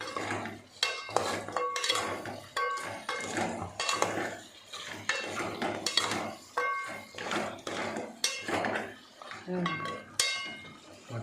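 A spoon scrapes and clatters repeatedly against a metal pan while stirring a mutton iguru fry, in close, rhythmic bursts with a faint sizzle underneath and a voice talking between the strokes.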